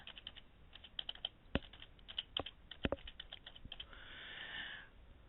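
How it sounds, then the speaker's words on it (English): Credit card details typed on a computer keyboard: close, irregular bursts of crisp key clicks with a few sharp louder strokes, then a brief soft hiss near the end, with no talking. "Of course, they'll have to be typed in."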